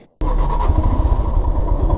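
A motorcycle idling at a petrol pump in Keylong on a solo Zanskar ride, its engine catching abruptly after a brief silence and then running with a close, loud, throbbing low rumble.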